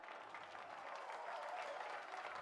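Steady clapping from the Williams team in F1 2013, a dense crowd of hands applauding at an even level throughout.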